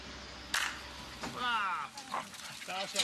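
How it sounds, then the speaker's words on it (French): Circus dogs waiting in a shelter give short barks, yips and whimpers at close range, several separate bursts over a few seconds. "Les chiens attendent son signal pour jaillir hors de l'abri."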